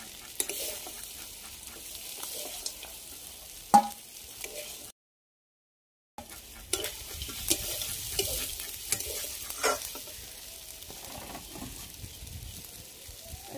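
Pieces of desi duck curry being stir-fried in a pan, with a soft continuous sizzle and scraping stirs, a loud clack near the start and a brief silent gap mid-clip, no talking.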